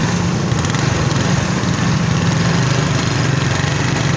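A motorcycle engine runs on a road at University Chowk in Vehari, making a loud, steady, close low drone that stays even throughout without any talk.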